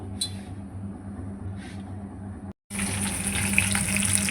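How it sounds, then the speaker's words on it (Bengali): Kalbosh fish fries in a pan with a steady hissing sizzle under a low hum, briefly cutting out and then returning louder and denser for the last two seconds. "আর এই মাছ ভাজতে দিয়েছি"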